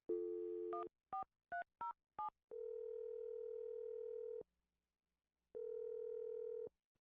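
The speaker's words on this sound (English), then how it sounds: "We're gonna dial her phone number right now" Phone number being dialed: a series of short touch-tone beeps, then a steady dial-type tone that cuts off and returns after a gap of silence, all clear and close with no talking.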